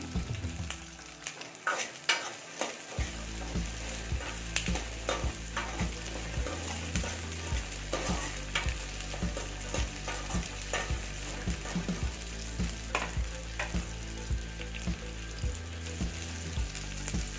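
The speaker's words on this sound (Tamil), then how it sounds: "பூண்டையும் போட்டுடலாம் இஞ்சியும் கூடவே போட்டுடலாம் இதை நல்லா வதக்கிக்கலாம்" Garlic and ginger sauté in a pan for a village-style fish curry, giving a continuous frying sizzle broken by frequent scraping stirs of a utensil against the pan, with no voices present.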